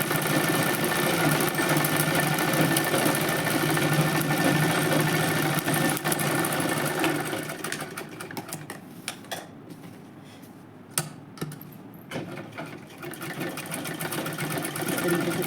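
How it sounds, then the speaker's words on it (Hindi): A sewing machine hums steadily while stitching wave and straight lines for lehriya work, running loud and continuous before easing into quieter, intermittent stitching with small clicks and handling sounds. "एक और वेव स्टिच लगा सकते हैं यहाँ पे, एक और स्ट्रेट लाइन बना के देखते हैं"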